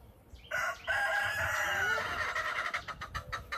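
Several roosters crow in a backyard garden, one long cock-a-doodle-doo rising clearly over faint background noise, followed by scattered clucks and shorter calls from the flock.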